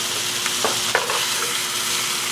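A porterhouse steak cooking in a hot pan gives off a loud, steady sizzle and frying hiss, with a few brief scraping or stirring touches, and no voices.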